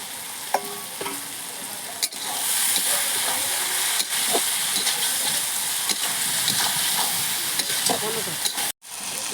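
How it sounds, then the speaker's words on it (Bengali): Goat meat with ginger-garlic paste fries over a wood fire, giving a loud, steady sizzle with scraping stirring strokes throughout and a brief dropout near the end. "আদা রসুন পেস্ট করে রেখে দিয়েছি এটা পুরোটাই দিয়ে দেবো ভালো করে কষিয়ে নেব"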